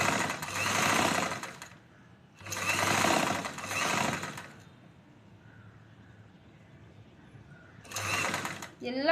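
A sewing machine stitching a choli top in quick loud bursts of rapid mechanical rattling, three runs separated by quieter gaps, close by.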